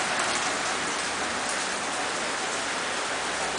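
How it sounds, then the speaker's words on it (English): Steady, dense rain hissing continuously on a surface, close and even, with no voices. "still raining."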